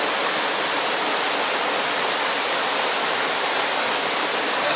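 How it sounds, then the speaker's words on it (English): Steady, dense rush of water flowing in an outdoor stream, loud and continuous with an even hiss and no breaks, close to the listener and with no voices over it. "The water flowing sounds?"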